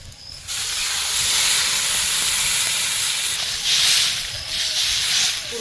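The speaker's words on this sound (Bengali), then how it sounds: "এবারে জল দেবো" Water poured into a hot pan of browned ingredients while cooking a potato dal with snakehead fish, bursting into a loud, steady steam hiss after a brief quiet start, with surges of sizzling near the end.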